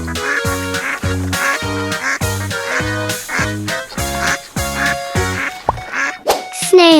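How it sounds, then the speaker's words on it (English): A duck quacks in a quick, steady string of nasal calls, about two per second, loud and close, with no other sounds around them. "Duck."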